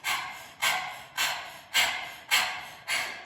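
A panting breath-of-fire exercise done with the tongue slightly out during an active vinyasa flow: six strong, evenly spaced breathy huffs, close-miked and fairly loud, with no speech.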